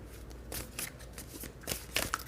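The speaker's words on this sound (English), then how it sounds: "I'll just shuffle the cards first" Tarot cards shuffled by hand during a general reading, a run of soft riffling, slapping bursts with brief pauses between them, close up and fairly quiet, with no one talking.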